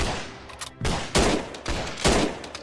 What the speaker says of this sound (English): That first shot of the three there.